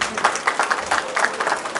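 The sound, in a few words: audience applause at a movie event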